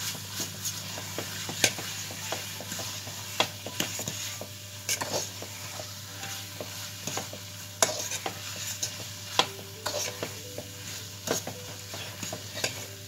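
Almond caramel cooks over very low heat while a utensil stirs it, making a soft, steady bubbling hiss dotted with irregular scrapes and clicks against the pan, quiet and close.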